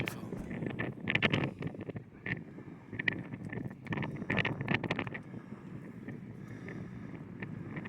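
Cold wind buffets the microphone outdoors on a sunny walk, a steady rough rush with gusty swells and scattered sharper bursts, loud and close, with no talking.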